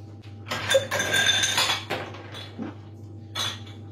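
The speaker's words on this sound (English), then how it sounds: "we're gonna add some ice to this and give it a good stir" Ice clinking and rattling in a cocktail mixing glass as it is stirred, a close, bright run of clinks that swells, fades and returns in short bursts with no voice over it.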